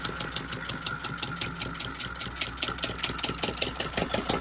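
A small engine idles low and steady, its rapid even chugging pulses repeating close up without any talk over it.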